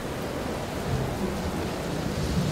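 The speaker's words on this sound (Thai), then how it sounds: "มันก็ปล่อยฝนให้ตกลงมาอย่างหนักจนกลายเป็นพายุฝนขนาดย่อมไปทั่วบริเวณ" A heavy rainstorm with thunder as a sound effect: dense, steady broadband rain hiss with a low rumble beneath, continuous and even throughout, with no voices.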